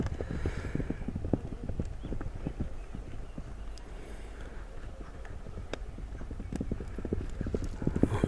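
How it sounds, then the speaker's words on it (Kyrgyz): Racehorses gallop at a Kyrgyz horse event, their hoofbeats drumming in a steady rapid clatter throughout, fairly near, with brief whinnies and distant crowd noise behind. "Өйдө ылдыйга бирдей чуркаган аттардын бири экен."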